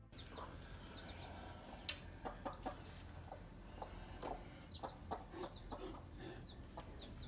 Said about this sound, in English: a mother chicken was seen tending to her clucking little ones